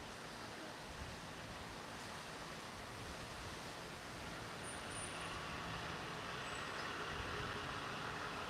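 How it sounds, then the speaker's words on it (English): A steady broadband roar of a passing car on the road, loud and continuous, swelling slightly toward the end with no voices. "That's just a car. It's a loud ass car."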